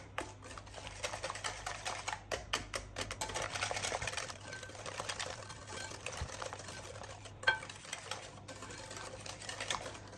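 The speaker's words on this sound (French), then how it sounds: "je rajoute les œufs. Et je continue à mélanger." A pear cake batter is beaten briskly in a bowl after eggs go in, a rapid, even rattling whir like a hand mixer or whisk running close, with one louder knock near the end.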